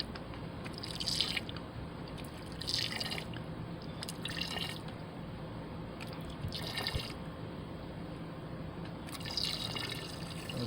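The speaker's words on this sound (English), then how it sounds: "Let's shoot some water in it." Water squirted in several short bursts into a container while refining scrap silver, each spurt a brief splashy hiss separated by pauses, over a steady background hum.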